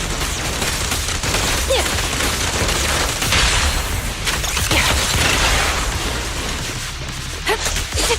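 Dense, continuous gunfire and explosive bursts fill a battle in the video game Zenless Zone Zero, with rapid overlapping shots that hold at a loud, steady level throughout.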